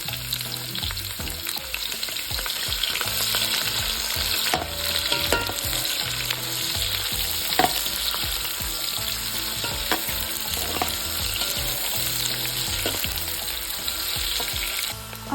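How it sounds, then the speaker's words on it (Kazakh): Potatoes and onion sizzle and crackle steadily in a hot pan while cooking dolma, a continuous close frying hiss with occasional stirring scrapes and small pops throughout. "Картоп қызарғаннан кейін пияз салып, оны да аздап қуырып аламыз"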